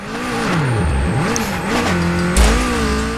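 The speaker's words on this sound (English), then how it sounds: "this one has an upgraded turbo and you can hear the turbo" A car engine in Super Street: The Game, fitted with an upgraded turbo, revs up and down in waves, with a rising whistle of turbo spool and a thud near the end.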